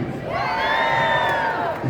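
Street performance audience in Covent Garden cheering and shouting together, a loud sustained crowd roar with rising whoops and screams filling the whole moment.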